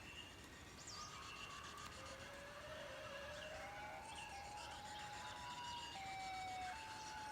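A video game siren wails, rising and falling steadily over a constant noisy background, its tone sliding between pitches throughout.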